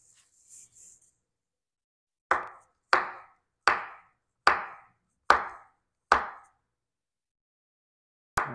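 A knife chops food on a cutting board in seven sharp, evenly spaced strokes, close and clear with quiet pauses between them.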